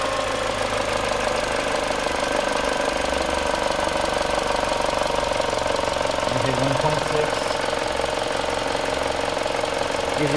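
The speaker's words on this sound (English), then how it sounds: "And then a little Mini Cooper engine." A 2012 Mini Cooper Countryman engine running under the open hood, a steady close mechanical hum with a ticking, knocking texture that continues evenly throughout.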